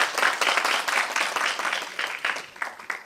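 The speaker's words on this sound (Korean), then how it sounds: "우리 서은영 교수님께 다시 한번 큰 박수를 보내주시기 바랍니다" An audience at a Gimpo city council policy debate applauds a professor after her presentation, a fairly soft, steady patter of many hands that rises and falls slightly.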